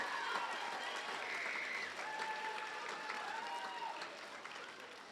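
Faint applause from a crowd of seventh-grade students and families at a school awards ceremony, a soft steady patter of clapping that slowly fades, heard from a distance.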